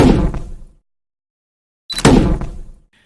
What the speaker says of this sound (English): I used this loud flame sound that I had in my library to illustrate the flame bursting from the jetpack.